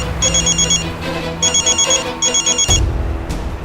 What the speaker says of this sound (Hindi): ससुर इनके सारे फोन आज ही बज गए।